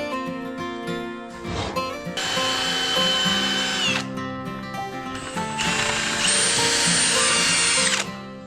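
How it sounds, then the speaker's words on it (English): A power drill pre-drills wooden slats for a jetty, whirring loudly in two sustained runs of a few seconds each. A short pause sits between them, with ratcheting mechanical clicks at the starts and stops. "So we've pre-drilled all the slats ready to go on the jetty."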